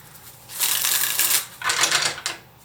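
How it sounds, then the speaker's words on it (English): Tarot cards are shuffled in two riffling bursts, crisp papery rattling up close with a short pause between, and no voices. "So do a quick shuffle here, and then we will find out exactly what's going on"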